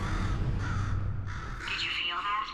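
A bird in the video game Portal 2 caws harshly a few times against a dense, loud background rumble, with the calls blending into the noisy game soundscape.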